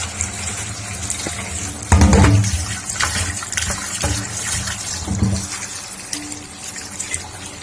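Running water splashes and gushes steadily, with a louder burst partway through and occasional knocks as mutton is rinsed under the stream.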